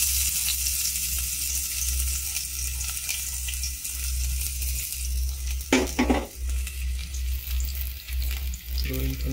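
Garlic and onion frying in oil in a pan for a Filipino papaya and sardine dish, after ginger is already in: a steady, loud sizzle that flares as the ingredients drop in, with a few scraping stirs.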